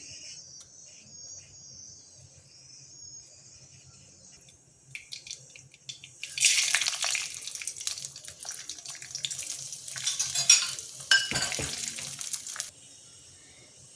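Mustard seeds hit hot oil in a kadai, bursting into a loud, close sizzle and crackle that runs steadily for several seconds after a quiet start, then cuts off.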